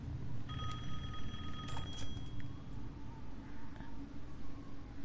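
Telephone ringing in the video game Resident Evil Village, a repeated electronic bell tone sounding over a steady low rumble of game ambience, fading after a couple of seconds.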